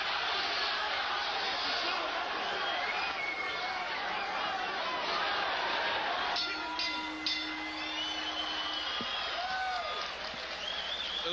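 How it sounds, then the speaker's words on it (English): Boxing crowd at the Bobby Czyz vs Donny Lalonde fight roars steadily in a dense arena wash, with rising chant-like swells and cheering carrying through the noise. "The crowd has come to life, as you could hear the chants"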